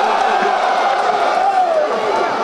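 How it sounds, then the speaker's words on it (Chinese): Crowd at a boxing bout in Changzhou roars and cheers continuously, a loud, dense wash of voices filling the whole moment without a break. "观众朋友们再来一点欢呼"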